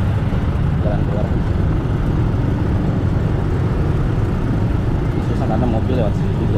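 Cars and motorbikes moving through a congested road, a steady close rumble of engines and traffic that persists throughout, with a person talking over it.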